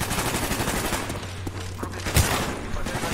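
Gunfire in the Call of Duty Black Ops video game: a dense, continuous fusillade of shots with one sharper, louder blast near the end, heard up close over a low droning background.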